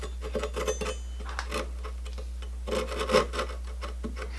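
A folding saw cutting a 2x4 clamped to a workbench, heard as fairly quiet, uneven rasping strokes with scattered ticks, the saw starting hesitantly with no talking.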